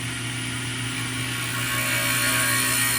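Carbide tool cutting a rough piece of curly acacia sapwood, a loud, continuous grinding whir with a steady ratcheting texture and no pauses.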